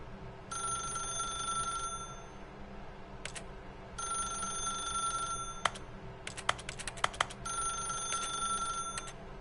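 An old-style telephone bell rings in The Stanley Parable in three long bursts separated by pauses, with quick clicking taps in the second gap over a low, steady background hum.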